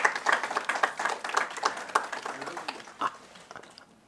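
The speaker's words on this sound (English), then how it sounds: "Give her a big round of applause also." Audience applause at a women's empowerment and education event: many hands clapping in a brisk, uneven patter that stays fairly loud and then gradually thins and fades toward the end.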